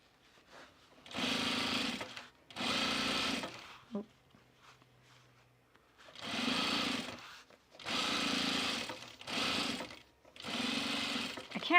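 A serger sewing machine stitches overalls fabric in several loud, steady whirring bursts of one to two seconds each, separated by short quiet pauses.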